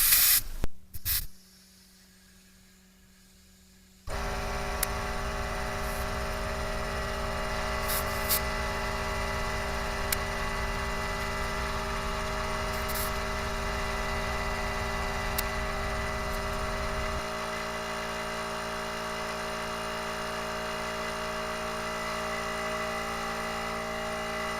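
An air compressor inflates a car tire to 32 psi, starting with a few bumps and clicks at the fitting and a brief pause, then a loud, steady hiss with a droning motor hum that runs on continuously and eases slightly partway through.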